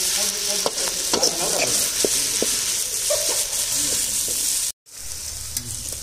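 Curry leaves and onions sizzle and crackle loudly in a hot pan of oil while being stirred for Pallipalayam chicken, a steady frying hiss with a brief cut near the end.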